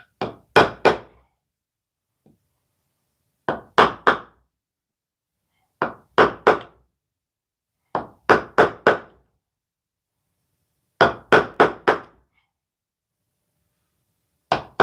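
A hammer drives an impact-handled chisel into a wooden door, landing close, sharp strikes in bursts of two to four separated by silent pauses.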